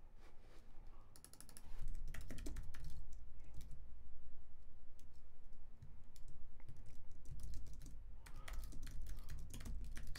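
Fingers type on a computer keyboard at close range in quick irregular bursts of clicks, with brief pauses between runs and a low hum underneath.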